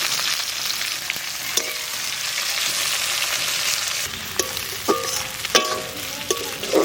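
Onion tossed into hot oil already tempered with bay leaf, dried red chillies and cumin fries with a continuous close sizzle, while a spatula stirs and knocks sharply against the pan toward the end.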